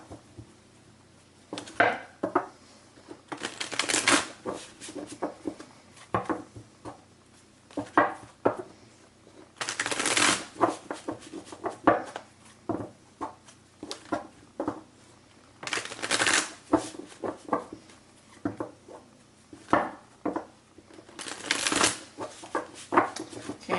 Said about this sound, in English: they're telling me one more shuffle here